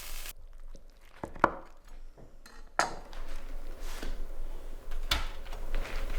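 A few sharp knife taps and chops on a wooden board, spaced irregularly, slicing quesadillas in half, with soft kitchen rustling in between.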